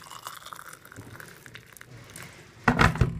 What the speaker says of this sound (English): put some fresh hot water in